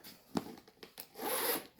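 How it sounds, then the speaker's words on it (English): A zipper slides along a Louis Vuitton bag, a short rasping pull that swells to a sustained zip near the end, preceded by a few soft rubbing handling sounds, close and alone. "So it's got a zipper. It's really secure."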